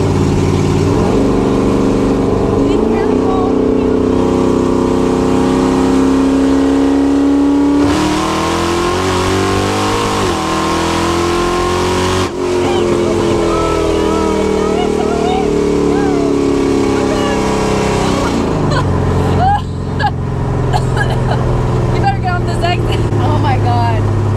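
A Camaro ZL1 sports car engine revs and accelerates hard, pitch climbing through gear changes, loud and continuous from inside the car, with a voice now and then.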